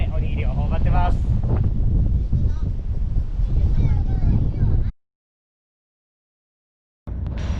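Strong wind buffets the microphone on a seaside beach before a typhoon, a loud rumbling roar under children's voices that cuts off abruptly into silence, then resumes.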